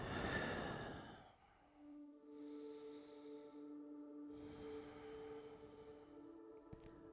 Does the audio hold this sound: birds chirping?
no